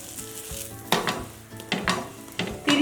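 A paneer paratha fries in butter on a hot pan and is turned over and over, with a close crackling sizzle that swells in short bursts as it is pressed and flipped, and no voices.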